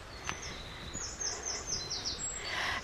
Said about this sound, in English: Sorry, it's so distracting with the lovely birds.